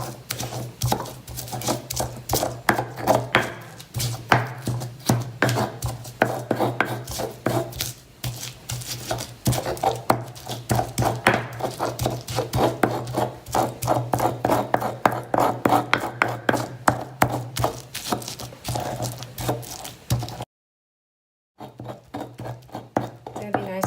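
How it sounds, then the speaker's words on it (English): Garlic cloves being smashed in a stone molcajete, a rapid run of gritty pounding and grinding strokes close by that continues for about twenty seconds, then breaks off into silence before faintly resuming. "I'm gonna go ahead and smash the garlic cloves"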